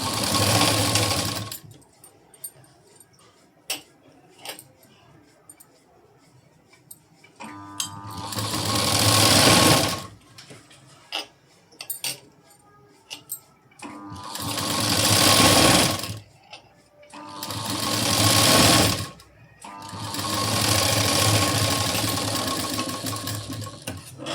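A sewing machine runs in four long, loud bursts while stitching the cross strip of a double katori blouse, with quieter handling and fabric shifting between the runs.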